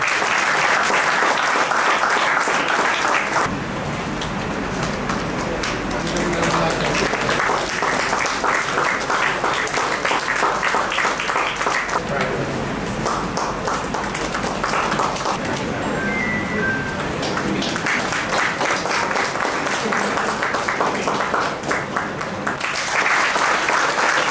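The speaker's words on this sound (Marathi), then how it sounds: "टाळ्या वाजवायच्या" Sustained applause from a large audience at a prize distribution ceremony, dense steady clapping that swells and dips in waves, with faint voices underneath.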